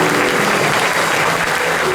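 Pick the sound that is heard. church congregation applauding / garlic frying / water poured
church congregation applauding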